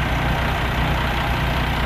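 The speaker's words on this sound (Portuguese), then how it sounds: "Curte o ronco do motor." Mercedes G6 bus of Viação Serrense rumbling nearby, a steady deep low-pitched engine drone with constant loudness throughout, no voices.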